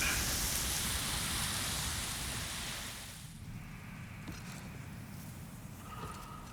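Rain in the video game Demon's Souls, a steady hiss of downpour that is loud at first, then softens and recedes into a quieter background wash.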